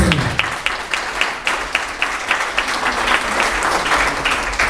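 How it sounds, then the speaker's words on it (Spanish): A church congregation claps loudly, with rhythmic hand claps over a dense wash of applause and a voice speaking briefly at the start. "dale fuerte aplauso al Señor"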